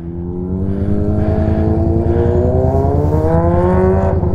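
A motorcycle engine idling and revving steadily, loud and close, with a continuous rising hum throughout and no talk.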